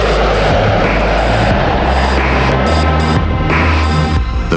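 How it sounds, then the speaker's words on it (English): A B-2 stealth bomber in flight produces a loud, steady jet engine roar with a low throbbing hum, filling the whole stretch without pause. "When the B-2 makes its maiden flight on July 17, 1989, it flies every bit as good as it looks."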